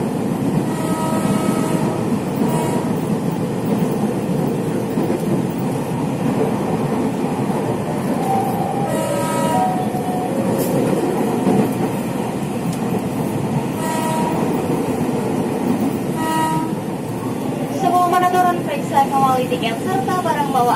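A KRL Commuter Line train near Tanah Tinggi station in Tangerang rumbles along the rails with rhythmic clacking, while station announcements and voices come through intermittently over the steady noise.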